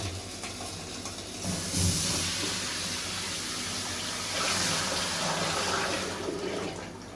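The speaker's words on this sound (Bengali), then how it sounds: "কড়াইটাকে ঠান্ডা করতে হবে, পানি দিয়ে ঠান্ডা করবে" Water poured into a hot wok used for cooking dried ribbonfish sends up a soft hissing rush. It swells twice and then eases, moderately quiet and with no voices.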